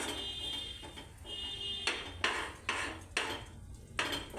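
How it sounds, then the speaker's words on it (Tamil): A spoon scrapes and knocks against a pan as sugar is stirred into badam halwa, several sharp clanks spaced about half a second apart over a faint steady hiss. "இப்போ இதுல 2 கப் சக்கரை போட்டு நல்லா மிக்ஸ் பண்ணணும்"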